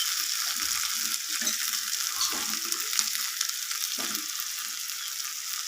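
Eggs and browned potatoes in a frying pan give a steady bright sizzle, with a few soft, brief stirring scrapes and bumps scattered through.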